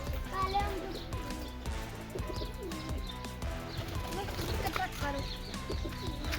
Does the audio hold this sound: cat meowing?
no